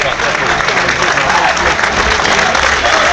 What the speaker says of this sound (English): Joe Quigley just getting a round of applause